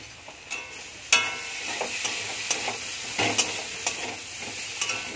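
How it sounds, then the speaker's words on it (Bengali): Green chilies and spices fry in hot oil in a pan, a soft continuous sizzle with scattered sharp crackles and occasional spatula taps, close by and without talk. "এটা একটু ভেজে নিই।"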